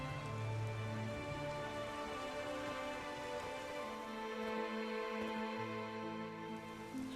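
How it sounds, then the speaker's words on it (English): Steady rain falls in the video game The Witcher 3 on the isles of Skellige, a continuous wash of patter mixed with sustained tonal game ambience, with no talking. "There's no point standing here in the rain."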